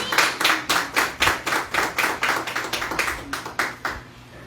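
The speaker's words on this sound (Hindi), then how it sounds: "जोरदार तालियां, जोरदार।" Church congregation clapping loudly in unison, a strong steady rhythm of about three claps per second that carries on for several seconds and fades slightly at the end.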